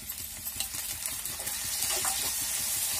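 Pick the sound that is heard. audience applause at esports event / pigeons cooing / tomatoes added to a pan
tomatoes added to a pan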